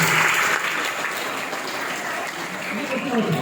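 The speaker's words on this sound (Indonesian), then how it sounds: "Boleh tepuk tangan buat kalian semua." Audience applause at a school orientation (MPLS) session at SMKN 1 Ciomas, a steady, dense clapping from a large crowd that fills the room, loud at first then holding level throughout.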